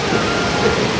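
Rain falls steadily at Miteri bridge in Dharan, a dense, even hiss of water that holds at constant loudness throughout, with no voices.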